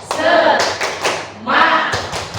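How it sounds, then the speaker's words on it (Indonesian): A school group performs the 'tepuk semangat' spirit chant, with sharp rhythmic clapping and thumps close by, punctuated in short bursts between loud chanted voices. "alangkah baiknya jika kita tepuk semangat dulu. Tepuk semangat."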